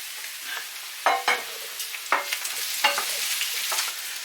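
Loofah frying in sweetened oil in a pan, with a steady sizzle broken by several sharp bursts of spitting and crackle as pieces are stirred or moved.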